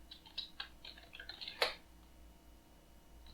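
Keystrokes on a computer keyboard as a command is typed into a Linux terminal, a quick run of soft clicks over about a second and a half ending in one sharper tap, then near silence.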